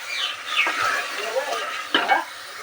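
Mutton being stirred and fried with spice paste in a pan, a steady sizzle broken by a few scraping stirs of the spoon, close and fairly loud, with no talk.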